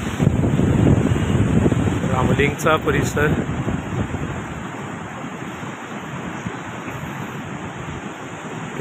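The flooded Krishna River surges past the Bahe Ramling island area, spilling beyond its channel, a loud, steady broadband rush with wind buffeting the microphone throughout while someone speaks over it.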